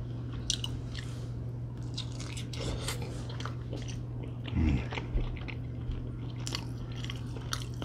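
Chicken wings from WingStop are bitten and chewed up close, with soft crunches and moist squishy chewing coming in irregular bursts over a low steady background hum.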